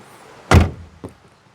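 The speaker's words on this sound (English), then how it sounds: "nice reassuring sounds, and the doors open really wide" The door of a BAW Pony electric quadricycle shuts with one solid thunk close by. A softer second knock follows half a second later, then quiet.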